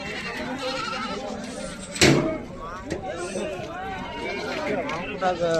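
Goats bleat repeatedly, near and fairly loud, at a busy weekly livestock market in Haveri, with people talking throughout and a sharp thud partway through.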